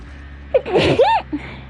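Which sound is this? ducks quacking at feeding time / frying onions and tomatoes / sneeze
sneeze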